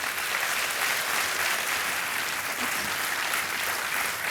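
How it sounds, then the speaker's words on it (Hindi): Steady, dense applause from a studio audience on a Hindi quiz show as a contestant wins a cash prize, continuous and loud from start to finish with no talking. "तालियां बजती रहें इनके लिए"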